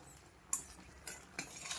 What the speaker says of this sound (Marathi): कंटिन्यू चमचा यामध्ये असा फिरवत राहा म्हणजे हे करपल्या जात नाही